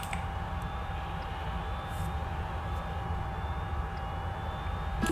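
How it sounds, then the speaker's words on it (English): A steady, low mechanical hum from a power generator in the sci-fi game Duskers, constant and droning throughout with a faint high whine above it and no speech. "Oh wait, that's the power generator."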